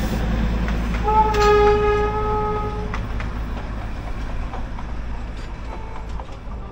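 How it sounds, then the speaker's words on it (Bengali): Darjeeling toy train arriving at Batasia Loop, a long, clear horn blast near the start over a steady rumble of wheels and cars rolling past outdoors. "আরও একটা টয় ট্রেন কিন্তু ঢুকছে"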